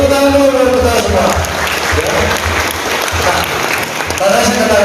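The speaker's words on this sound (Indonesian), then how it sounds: "Tepuk tangan dulu kita semua." An audience of vocational school students applauds at an anti-drug awareness talk in Samosir, a broad steady clapping that runs throughout, with a voice heard at the start and again at the end.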